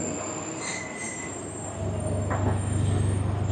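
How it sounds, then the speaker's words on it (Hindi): A passenger coach of the Tezgam express train slows to a stop at Okara railway station in Pakistan, with wheels squealing against the rails and a low rumble building as it halts. "ये एंट्रेंस के बिल्कुल सामने आकर हमारा डब्बा रुका"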